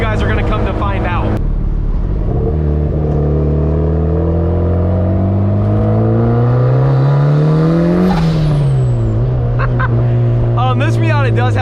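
Turbocharged Mazda Miata making about 400 wheel horsepower, heard from inside on a street drive: the engine note rises steadily through a long pull, dips as a gear changes, then climbs again, loud and close, with brief talk at the start and end.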